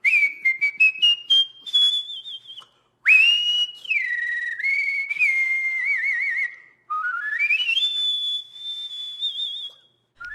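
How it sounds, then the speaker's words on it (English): A person whistles Pop Goes the Weasel in an elaborate style, with quick trills, slides and warbling vibrato in long connected phrases broken by short pauses, loud, close and alone. "This is how I would whistle Pop Goes a Weasel."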